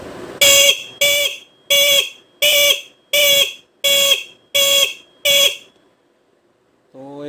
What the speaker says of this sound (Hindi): देखा, मतलब ऐसा टी टी टी करके बजेगा, जैसा अपना इंडिकेटर बजता है ना